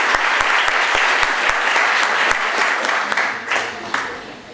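Audience applause at an academic labor conference in Latin America, steady and fairly loud throughout, with a few sharper claps standing out before it thins slightly near the end.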